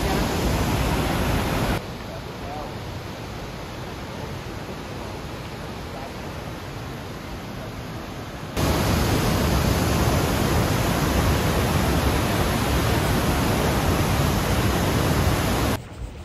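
Rushing water of the Lower Falls in Banff roars as a continuous broadband wash. The level dips for several seconds, then returns louder and stays constant.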